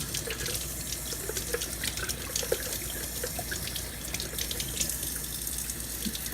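Tap water runs steadily into a sink while a jar of sprouting broccoli seeds is rinsed, a constant splashing hiss with small clinks of glass and drips over the flow.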